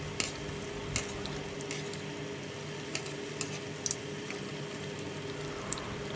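Appam and paniyaaram batter frying in a pan over a medium flame, a steady soft sizzle with light crackles and occasional small pops, close and continuous with no talking.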